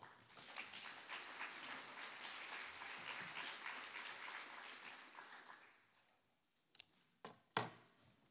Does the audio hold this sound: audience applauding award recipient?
yes